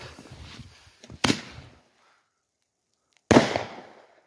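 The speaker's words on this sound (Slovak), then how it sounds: "tu máme Thunder Flower výmetnicu" A Thunder Flower firework mortar shell fired outdoors in snow: a sharp launch thump followed by crackling, then after a second of silence a loud bursting bang with a decaying rumble.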